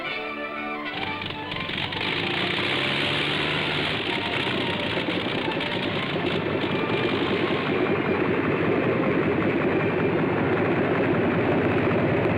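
A loud, steady airplane engine drone runs continuously throughout, dense and unbroken, with a rough mechanical texture and no voices, from a 1952 ranch crop-spraying operation.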